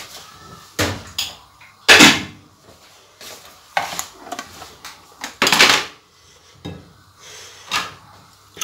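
Clattering of a tagine pot and lid as it is covered, several loud close ceramic clunks and scrapes separated by short pauses.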